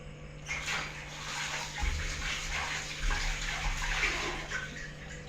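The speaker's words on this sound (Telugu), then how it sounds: "పొట్టు తీసుకున్నా ఇప్పుడు కడగాలి" Peeled cucumber being washed in water, with a steady running, splashing wash sound close by throughout, lightly swelling and easing as the pieces are rinsed.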